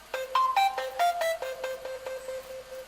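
A phone ringtone plays a melodic run of quick, bell-like notes that step up and then down, repeating at a steady pace, moderately quiet and alone.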